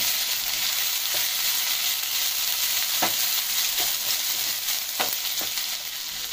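Ginger fries in hot oil in a pan, a dense, steady close sizzle with occasional soft scrapes of a spoon stirring, continuous throughout with no voices.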